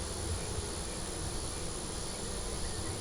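Honey bees buzzing in a dense, unbroken drone at an open beehive during a hive inspection. The buzzing stays steady and fairly close for the whole stretch, with no voices over it.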